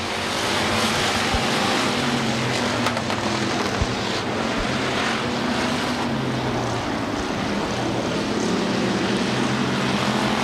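Hobby stock race cars at US 30 Speedway roaring continuously around the track, a loud, dense wall of engine noise with no pauses or talk.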